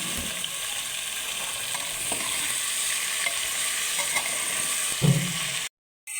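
Taro, eggplant and yardlong beans stir-fried in hot oil give a steady, close sizzle with scraping stirring noises, a louder clatter, then an abrupt cut to silence near the end.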